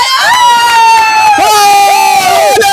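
Outdoor crowd at an oily banana tree walking challenge, with loud, close, high-pitched shouting and cheering voices overlapping throughout; distinct clapping is hard to pick out.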